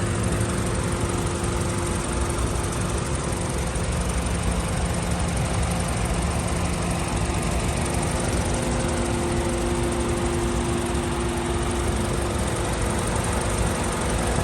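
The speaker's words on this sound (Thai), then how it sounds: "เครื่องยนต์เดินเรียบๆนะครับ" A car engine idles smoothly and evenly up close, a constant low hum with a faint tonal whine and no change in pace.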